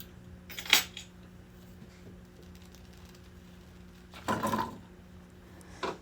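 Melted butter being stirred in a pan before carrots go in, heard as a few isolated metal clinks and a short scraping rattle of the utensil against the pan, with quiet gaps between.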